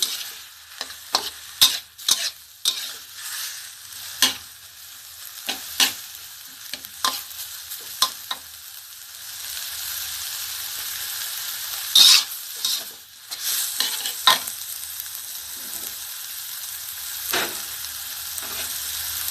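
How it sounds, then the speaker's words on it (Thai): Pork belly stir-fries with curry paste in a pan for a mustard-green jungle curry, giving repeated sharp scrapes and clatters of a utensil over a low continuous sizzle, fairly close, with no talk. "ใส่หมูสามชั้นลงไปเลยค่ะ ผัดกับพริกแกงให้หอม"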